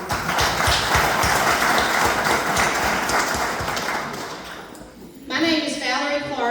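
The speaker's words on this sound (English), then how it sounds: "I think we should give them a big round of applause" Audience applause at a county candidates' meeting in Lewisville, Arkansas, a dense steady clatter of many hands that fades near the end before a voice begins speaking.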